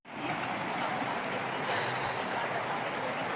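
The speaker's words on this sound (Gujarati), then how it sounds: "ખૂબ વરસાદ આવી રહ્યો છે." Heavy rain pours down in a dense, steady hiss that stays loud and constant from start to finish, with no voices over it.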